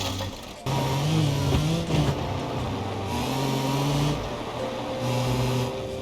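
Off-road Pigeon in BeamNG, its small engine revving hard with nitrous engaged, a buzzing mid-pitched drone that climbs and dips through several throttle swells, close and loud, with a voice talking over it.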